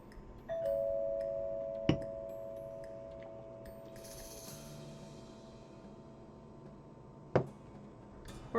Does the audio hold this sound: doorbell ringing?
yes